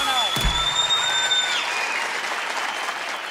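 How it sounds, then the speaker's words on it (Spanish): A studio audience bursts into applause for a singer on a Spanish-language talk show, a dense wash of clapping with a few whoops and a brief tonal sound at the start, fading slightly toward the end. "Un aplauso para él,"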